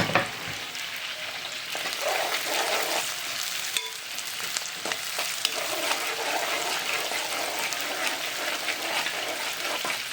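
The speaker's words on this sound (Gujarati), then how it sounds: "હવે નાખી દેવાનું છે આદુ ને લસણ ચોપ કરીને રાખ્યા છે ને એને પકાવવાનું" Chopped ginger and garlic frying in a pan for masala prawns make a dense, even sizzle with occasional stirring scrapes, steady throughout with no voices.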